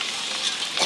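Food frying in a pan during large-batch home cooking for a feast of mustard hilsa and prawn malai curry: a loud, steady sizzling hiss close up with a brief stir near the end, no voices.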